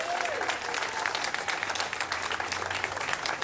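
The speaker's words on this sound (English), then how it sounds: "Let's give them a big round of applause." An audience at an outdoor press conference for the Fulton Mall claps steadily, a dense burst of applause lasting several seconds, with a low hum underneath.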